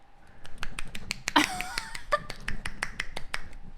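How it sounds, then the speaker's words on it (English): A string of crisp, rapid finger-snap-like slaps made with one hand, roughly a dozen sharp cracks in quick succession, close up in a quiet room, with a brief vocal sound partway through. "Did you ever sit where you can clap with one hand?"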